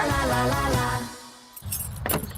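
Car keys jangling while someone gets into a car: a few bright metallic jingles close by, with a short burst near the end, over a low rumble and brief muffled vocal sound at the start.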